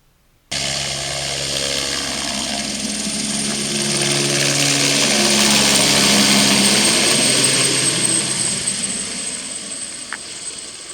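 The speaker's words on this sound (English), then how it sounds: "This mosquito helicopter landed like 100 yards from here" A mosquito control helicopter lands about 100 yards away on Cayo Costa, west of Fort Myers, Florida. Its loud, steady rotor and engine drone starts abruptly, swells, then slowly eases, with no talking.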